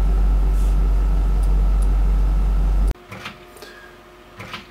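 A loud, steady electric hum and whir from a room fan that runs constantly, then cuts off abruptly, leaving quiet room sounds with a few faint clicks.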